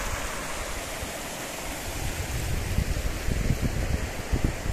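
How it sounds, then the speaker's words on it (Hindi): A continuous rushing of falling water from a small mountain waterfall near Cherrapunji, India fills the scene, steady and broad, with low rumbling gusts growing slightly louder toward the end. "इस साइड में एक छोटा सा झरना है"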